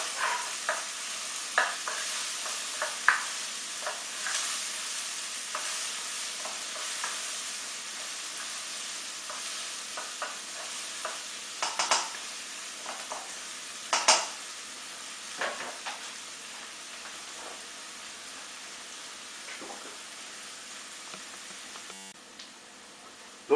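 Onions sauté gently in a pan, a soft steady sizzle with intermittent spatula scrapes and stirs, fairly quiet and close.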